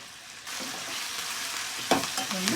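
Onions, green chilies and tomato sizzle and fry in a pan for sambar, with soft stirring scrapes and a louder burst of hissing toward the end; no voices.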